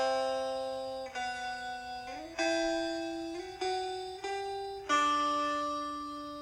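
Layered guitars play a lofi beat in harmony, sustained clean notes sliding and stepping between pitches with soft attacks every second or so, ringing out bell-like at a moderate level without any talking.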